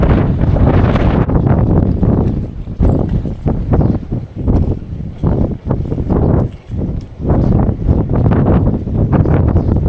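Strong wind buffeting a microphone on a fishing pier, loud rough gusts rising and dropping in rapid bursts over several seconds, with no clear talking.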